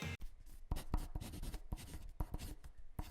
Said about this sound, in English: the sound effect on the intro, the pencil doesn't match up with what he's typing